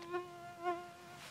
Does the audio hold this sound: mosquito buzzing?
yes